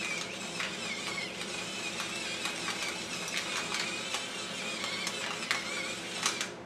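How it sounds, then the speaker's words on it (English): An automatic electric pepper grinder whirs steadily while seasoning a pork loin in a kitchen, a continuous buzzing mechanical grind with faint clicking texture, close and moderately loud throughout. "Love that automatic grinder."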